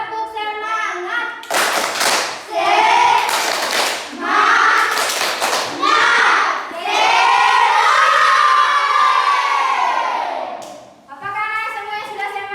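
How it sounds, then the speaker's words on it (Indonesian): Classroom children chanting the tepuk semangat cheer together, loud group voices broken by bursts of sharp rhythmic hand claps, with a single adult voice speaking briefly at the start and end. "Yel-yel yang akan Ibu gunakan itu yel-yel tepuk semangat."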